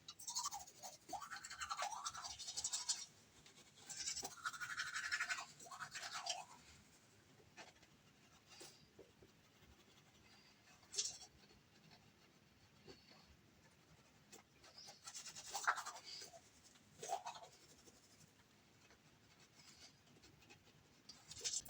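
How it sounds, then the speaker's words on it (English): Soft, rapid scrubbing of a toothbrush against teeth comes in bursts with quiet pauses between, close and intimate. "dip my toothbrush one more time and brush"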